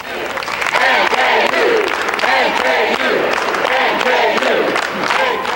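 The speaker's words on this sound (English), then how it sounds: "Regents Hall was echoing with the sounds of applause and chants." Basketball fans in Regents Hall, Northern Kentucky, cheer and chant in a loud, echoing crowd, rhythmic shouted chanting rising and falling over continuous applause, with a reporter's voice talking across it.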